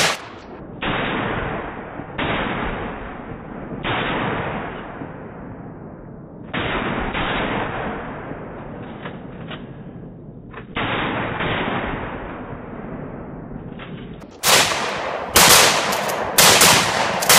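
Target-shooting gunfire rings out in loud, sharp reports, several shots spaced a second or two apart with echoing tails, ending in a quicker cluster of cracks.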